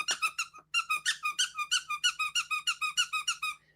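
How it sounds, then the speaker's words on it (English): A squeaky toy squeaks over and over in a quick, steady rhythm, roughly five squeezes per second, sharp, close and loud, with a brief pause near the start and no voices. "There's a squeaky in here somewhere."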